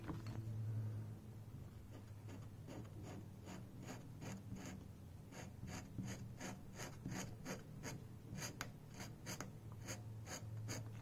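Leather edges of a wallet being filed by hand, a quiet rhythmic rasping of repeated strokes close by, with no talk.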